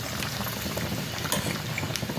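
A vada pav dumpling coated in batter sizzles and bubbles as it fries in hot oil, a loud, steady crackling hiss heard up close with no talking over it.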